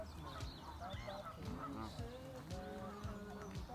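Geese and ducks honking and calling at a country park lake in Kent, England, several birds close by with overlapping irregular calls against steady outdoor background.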